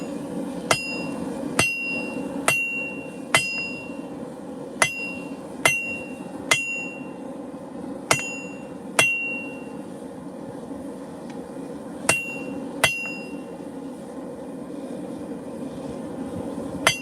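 A big hammer flattens a freshly forged meat cleaver, ringing out as a dozen sharp metallic strikes in an uneven rhythm over a steady low background hum, with no talking.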